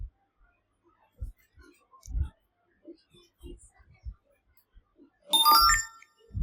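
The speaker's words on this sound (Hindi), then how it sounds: "तो देखो आवाज भी किया तो नोटिफिकेशन आ भी गया अपना बैकग्राउंड स्टेट में" A phone chimes once with a short, bright notification tone from a Firebase push notification, arriving near the end after scattered faint clicks and quiet background movement.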